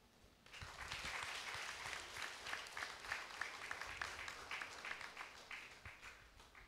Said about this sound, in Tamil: தந்தை அவர்களுக்கு நம்முடைய உற்சாகமான கரகோஷம் கொடுக்கிறோம்